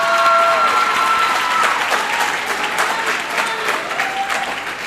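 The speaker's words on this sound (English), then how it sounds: "you get the biggest cheer the longer you've been here" Audience applause with some cheering fills a band banquet hall, steady and fairly loud throughout, with a few faint voices mixed into the crowd noise.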